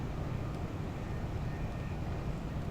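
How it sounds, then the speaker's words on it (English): An East Midlands HST passes in Train Simulator 2021, a steady, dense rumbling roar that fills the whole short stretch without letting up and with no voices. "Aha, we've been overtaken by an HST."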